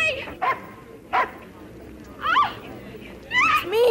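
Dog barking in a children's TV special about a boy turned into a Border Collie, a few short separate barks and yips at moderate distance, with brief voice sounds between them.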